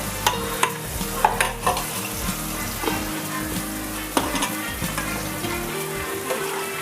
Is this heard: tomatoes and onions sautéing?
yes